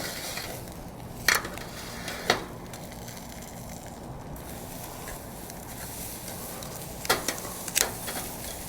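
Bone-in prime filets searing over a Slow 'N Sear travel kettle grill, a steady low sizzle broken by a few sharp clanks and scrapes from tongs or grate, close up, with no talking.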